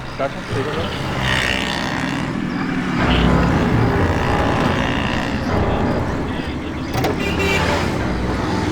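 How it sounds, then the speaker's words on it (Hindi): A fast car drives by at speed, its engine a steady, loud roar that fills the whole stretch with broadband road noise. "ये इतनी तेज कार कौन चला रहा है?"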